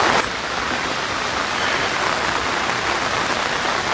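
Heavy rain falling during a storm on a fishing outing, a dense steady hiss of drops pattering on surfaces nearby, continuous and loud, with no voices.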